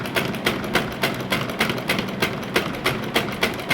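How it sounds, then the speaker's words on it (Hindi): A sewing machine stitches fabric in a fast, steady rhythmic patter, close and alone, with regular needle strokes throughout. "नीचे सिलाई करते जाना है आपने"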